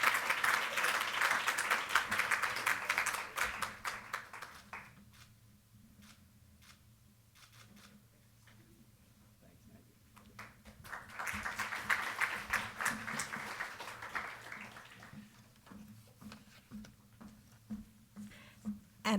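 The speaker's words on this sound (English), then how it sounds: "Please give a round of applause to Maggie." At a youth peacebuilding session, a conference audience applauds Maggie: a burst of clapping that fades to scattered claps, then swells into a second wave before thinning out again, moderately distant in the room.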